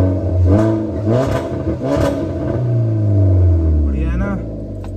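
A Hyundai i20 fitted with a loud valvetronic exhaust revs in three sharp blips, then holds a longer deep rumbling rev before settling, close and loud, with someone speaking briefly over it.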